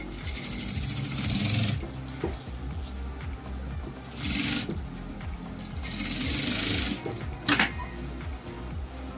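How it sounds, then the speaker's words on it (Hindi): A sewing machine stitches fabric while making a latkan, running in rhythmic bursts of fast mechanical whirring that speed up and ease off, with a sharp clack near the end. "पहले हम इस पर सिलाई मार लेंगे।"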